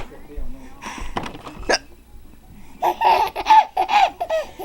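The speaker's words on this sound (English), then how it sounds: "He laughs at my hiccups." A woman hiccups in sharp, squeaky bursts while a baby giggles and laughs loudly in reply, the laughter building in quick repeated peals near the microphone.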